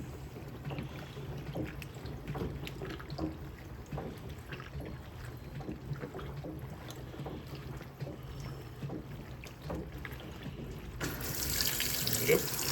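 Fisher & Paykel CleanSmart washing machine topping up with water to its normal level, a steady rushing fill that runs continuously and swells louder near the end.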